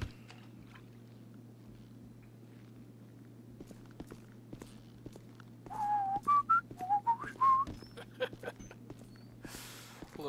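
In the GTA V Bureau Raid fire crew mission, a character whistles a short, casual rising tune midway through, over a low steady hum, faint footsteps and ticks, with a burst of noise near the end.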